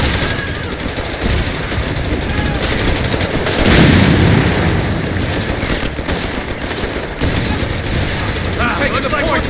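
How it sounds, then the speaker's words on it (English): Dense gunfire and artillery from the video game Company of Heroes 3 rattle continuously, with machine-gun bursts and heavy booms layered into a loud, chaotic battle din. "Taking heavy fire!"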